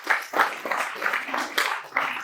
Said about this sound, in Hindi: तालियां कमजोर पड़ रही है